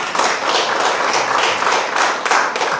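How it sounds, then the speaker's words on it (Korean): Lecture audience clapping on request, a full, continuous burst of many hands with slight swells, loud and close, with no speech over it. "교과서에 넣어도 좋겠다는 생각하면은 박수 한번 쳐주세요."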